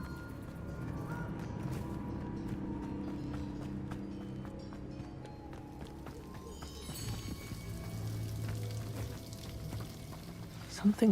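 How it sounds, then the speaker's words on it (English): Rushing waterfall ambience inside the Hogwarts Legacy video game, a steady broadband wash of falling water held at an even level throughout, with a few soft clicks and a brief burst near the end. "The waterfall."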